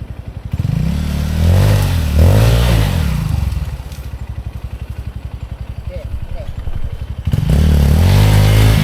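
Honda CRF150L enduro motorcycle engine revving on a hard enduro trail, loud and close with a steady throbbing idle between two strong rising revs, voices talking over it.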